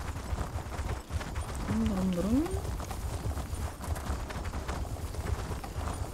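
Horse hooves clopping as a rider travels on horseback in The Elder Scrolls Online, a steady muffled gait running through the whole stretch beneath game ambience, with a brief whinny partway in.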